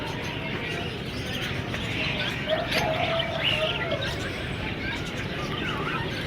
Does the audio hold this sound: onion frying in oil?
no